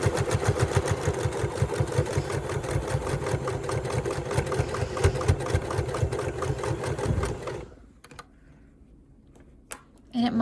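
Sewing machine back stitching on a quilt, a close steady rapid needle chatter running for about seven seconds before stopping and leaving near silence with a faint click.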